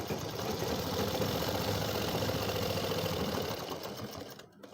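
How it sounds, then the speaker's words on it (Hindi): Electric sewing machine running steadily as it stitches the fly of a pair of trousers, a close, continuous whirring hum that slows and stops near the end. "अब हम लगाएंगे फलाई की सिलाई"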